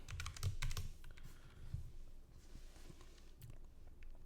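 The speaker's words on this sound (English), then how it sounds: "Then I'm going to type in the password." Quick, close keystrokes on a computer keyboard patter in short uneven bursts as a password is typed, with brief pauses between clusters and no talking.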